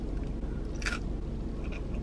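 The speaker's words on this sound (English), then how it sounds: "That was a good crunch." A crunchy bite into a California roll sushi piece with cucumber, one brief crisp crunch close to the mic amid quiet chewing, with no talk.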